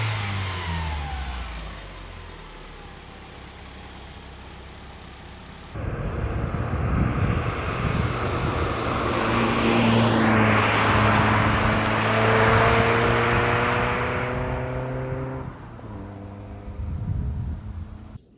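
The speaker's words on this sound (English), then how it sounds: "with the first startup, usually the valve lifters make a boatload of noise" First startup of a rebuilt engine in a 1990 Mazda Miata with noisy valve lifters: cranking gives way to a loud, rough idle that rises in revs and holds, close and steady, with no voices.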